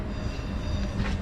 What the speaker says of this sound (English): there's another tram already coming